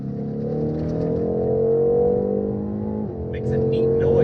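A 2019 BMW M850i xDrive engine holds a steady, strong hum that rises in pitch, dips briefly, then picks up again as it accelerates, close and loud.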